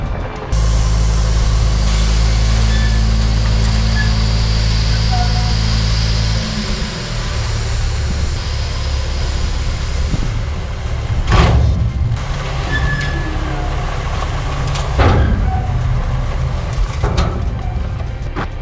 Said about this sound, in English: And the gravel truck's here.